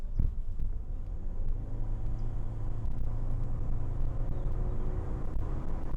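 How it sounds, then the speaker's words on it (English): A Toyota Corolla Cross 1.8 hybrid accelerating hard on an urban street gives a steady, droning CVT engine note, a low sustained hum heard from inside the cabin, fairly quiet and unbroken, with no talking. "This is where the typical CVT drone"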